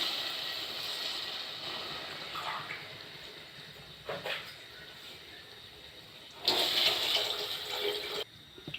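Water pours into a cooking pot, running and splashing steadily for several seconds, rising into a louder gush near the end, close by, with no talk.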